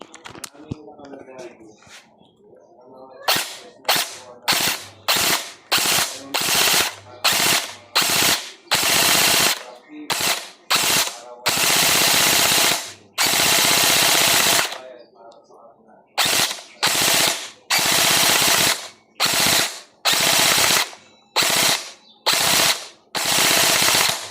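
An upgraded gel blaster fires at a thick piece of wood in rapid full-auto bursts, a dozen or so loud, close volleys separated by short pauses, after a moment of quiet talk at the start.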